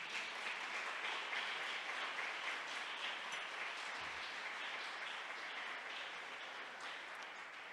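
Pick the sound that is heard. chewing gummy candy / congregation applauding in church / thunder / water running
congregation applauding in church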